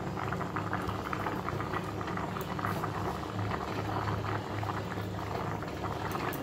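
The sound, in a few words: rice and lentils boiling in a pot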